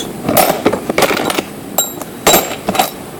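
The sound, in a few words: metal nuts and bolts clinking together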